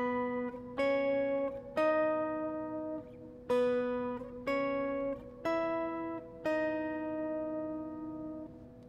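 An electric guitar picks a song intro in slow split octaves, seven clean ringing two-note plucks each sustained about a second, steady and close with no talking.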